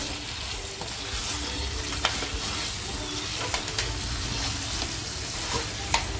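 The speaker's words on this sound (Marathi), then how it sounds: "एकदा परत असं छान हलवून घेते" Dry mutton with coriander being stirred in a pan, a steady soft sizzle with scattered scraping clicks from the spoon, close and moderately loud, no voices.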